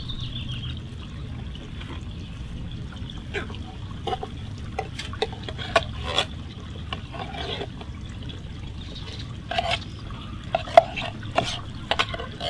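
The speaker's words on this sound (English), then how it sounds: "we're going to pour in the apple pie filling." Canned apple pie filling is poured into a foil-lined Dutch oven, with soft wet glops and scattered clicks and scrapes of cans and utensils against a low background rumble, with some talk.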